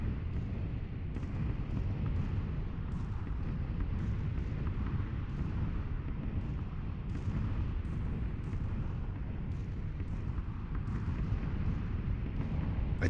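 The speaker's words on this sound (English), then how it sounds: "Here come the bombs." Repeated bomb blasts from an air raid in PlayerUnknown's Battlegrounds, a steady rumble of distant explosions with sharper bursts scattered throughout, no talk.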